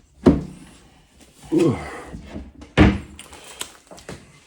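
A kitchen drawer is pulled open and pushed shut to fetch rice cakes, giving a few close, hollow wooden thunks and sliding rattles spaced over several seconds, with a brief exclamation from a person.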